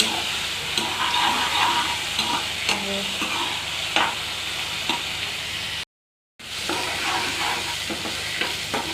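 Continuous sizzling and crackling of a tempering of onion and tomato frying in a pan, with occasional stirring clicks and a brief dropout of silence midway.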